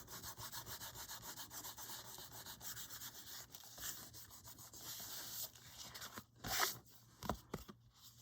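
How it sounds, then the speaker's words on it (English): A bone folder rubs excess glue on paper and board while covering a lapbook structure, giving a close, quiet, steady scraping rub that ends in a few sharper strokes. "with the bone folder, you can really get the glue spread and flatten perfectly. And then you rub the excess of the glue."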